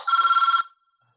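A telephone gives one short burst of electronic ringing in a school board meeting room, a steady trilling tone lasting just over half a second and then cutting off into silence.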